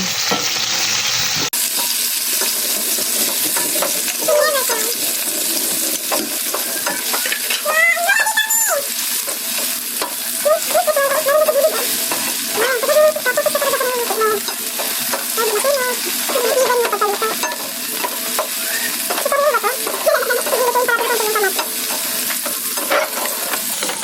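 Tomatoes sautéing in a pan for ginisang ampalaya, with a loud steady sizzle throughout and repeated stirring scrapes over it, after a brief quieter start.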